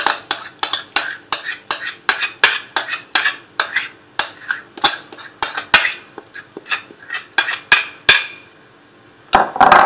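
Cream being mixed into a no-bake Oreo blueberry cheesecake mixture in a bowl: quick, regular clinking strokes about twice a second, loud and close, then a short pause before the mixing resumes.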